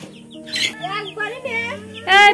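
A backyard hen gives short clucks and a couple of sharp squawking bursts, and a person talks over them close by.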